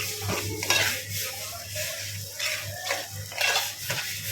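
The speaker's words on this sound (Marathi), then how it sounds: "भेज्या यामध्ये व्यवस्थित मिक्स करून घ्यायचं" A spoon stirs goat brain into curry in a pot, with repeated clinks and scrapes of metal in a slow rhythm over a soft sizzle and a constant low hum.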